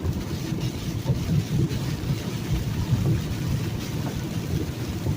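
Rain falls as a continuous soft wash of noise under a deep, rumbling drone, heard from inside a truck cab while driving bobtail, without a trailer.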